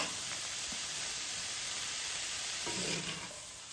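Sliced bitter gourd stir-fries with an onion mix and tamarind in a pan, giving a loud, continuous close sizzle, with a couple of brief scraping stirs near the end and no speech.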